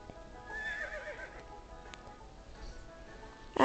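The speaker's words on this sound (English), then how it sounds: "this is my new bay horse." A bay horse in the Hay Day farming game whinnies in a short, faint descending call, followed by quiet game ambience and a sharp click near the end.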